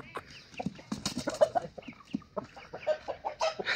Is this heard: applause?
no